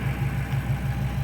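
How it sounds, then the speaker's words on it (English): A Lexus IS F V8 fitted with a racing air filter idles smoothly, a steady low pulsing hum with an even rhythmic throb, close up and with no talking. "here she is installed. Everything nice and good, fits in there nice. No complaints, she idles fine"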